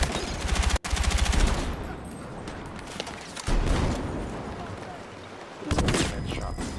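Rapid bursts of automatic gunfire from a first-person shooter video game rattle loudly in several sustained volleys separated by brief pauses, with a player's voice talking over the shooting.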